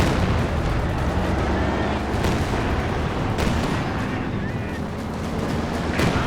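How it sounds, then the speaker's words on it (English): Katyusha rocket artillery barrage in Company of Heroes 2 striking a pair of ISG guns, a dense continuous roar of rumbling blasts and crackling impacts, loud and sustained throughout with sharper bursts layered in. "Another Katyusha barrage right onto the double ISGs."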